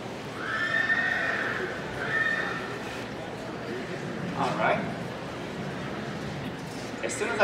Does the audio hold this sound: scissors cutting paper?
no